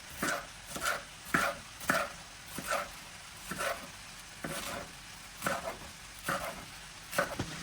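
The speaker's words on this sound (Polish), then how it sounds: "Teraz kroję kapustę pekińską. Odkraiwam tutaj tą końcówkę. I kroję w paski." Steady rhythmic knife chops on a cutting board, about a dozen even strokes slicing Chinese cabbage into strips, close and fairly quiet with no talking.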